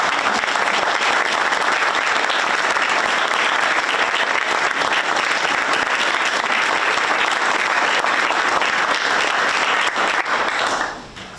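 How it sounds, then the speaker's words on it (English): Steady, dense applause from the audience at a village board of trustees meeting holds at full strength for about eleven seconds, then tapers off at the end, with no voices over it. "Let's give them all a big round of applause."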